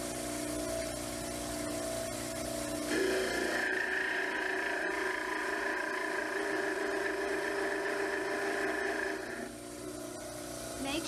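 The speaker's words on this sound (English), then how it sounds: "Set the back of the mandibular cast flat on the table of the model trimmer. And trim the base." A dental model trimmer grinds the base of a mandibular stone cast, its steady motor whine rising into a harsher, higher abrasive grinding for several seconds while the cast is pressed against the wheel, then easing back.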